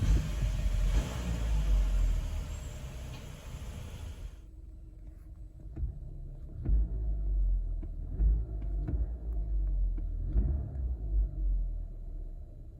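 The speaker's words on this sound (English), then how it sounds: "we might as well get some exhaust notes," Exhaust of a 2020 Chevrolet Malibu LT heard from behind the car: a low, steady rumble with a few gentle swells as the engine revs, fairly close and with no talking.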